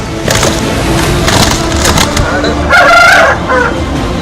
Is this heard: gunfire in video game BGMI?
no